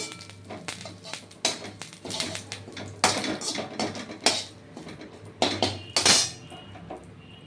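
Curry leaves and mustard seeds tempered in hot oil and poured into coconut and peanut chutney in a home kitchen, heard as a run of clattering, clinking pan and utensil knocks in irregular bursts, fairly close and moderately loud, with no talk.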